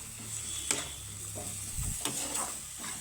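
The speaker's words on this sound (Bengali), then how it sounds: "তো মশলার সাথে আমি ডিমটাকে মিক্স করে নেব।" A spoon or spatula stirring fried egg into masala in a pan, giving a few scraping knocks over a faint, steady sizzle.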